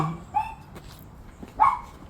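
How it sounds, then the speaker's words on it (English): A dog barks twice, a short sharp bark near the start and a louder one later, with quiet room sounds between. "My dogs are barking at people."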